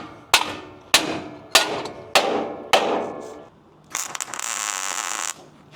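Hammer striking metal on a flat bed trailer, five evenly spaced sharp ringing taps, loud and close, followed by a brief rougher scraping burst.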